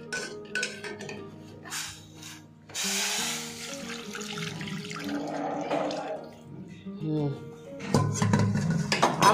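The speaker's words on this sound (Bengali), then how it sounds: "আমি এটা শুধু গরম জল দিয়ে ধুয়ে রাখছি মাংসটা" Hot water runs at a kitchen sink while raw meat is rinsed, a steady splashing stream with clinks of pots and handling. Voices chatter intermittently over it.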